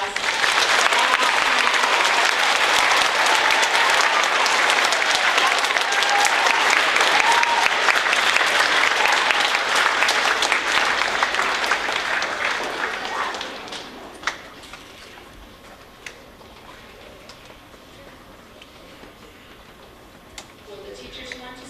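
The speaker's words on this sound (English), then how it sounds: "we want a huge round of applause" A school audience gives sustained, loud applause for middle school certificate recipients in a space project program, dense clapping for about thirteen seconds before fading to scattered claps and quiet room noise.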